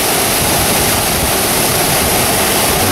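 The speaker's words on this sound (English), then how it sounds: "Going in deep for the waterfall." A waterfall on a California creek where crawdads are hand-picked roars as a dense, loud, unbroken rush of falling water.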